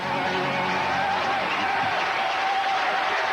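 Baseball crowd at Miller Park, Milwaukee, rising to its feet and cheering during the ninth inning, a steady broad roar of noise and applause holding at a constant level throughout.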